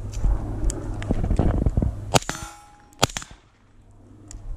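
A suppressed SR-15 rifle fires a few sharp shots at steel plates outdoors, each followed by a ringing metallic clang, with irregular gaps between them.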